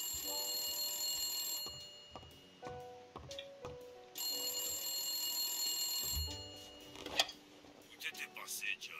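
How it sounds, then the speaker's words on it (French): Old-fashioned telephone ringing in the Blacksad: Under the Skin video game, repeated bright metallic bell bursts separated by pauses, with someone speaking French between the rings. "C'est quoi ce téléphone, mon dieu?"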